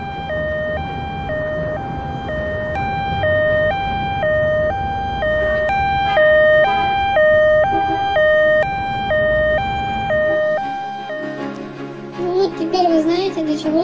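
An ambulance siren wails in a steady two-tone alternating pattern, loud and close, with road rumble beneath, then cuts off near the end as other sounds take over.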